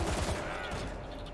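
Rapid bursts of gunfire in the zombie shooter World War Z, dense overlapping shots crackling close and loud in quick succession, with no voices over them.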